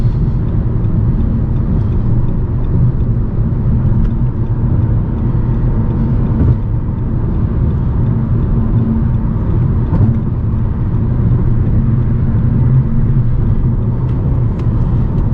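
A 2021/2022 Nissan Rogue Sport S AWD accelerates onto a Southern California highway, heard from inside as a loud, steady broadband road and engine rumble that carries on without a break, with no talk.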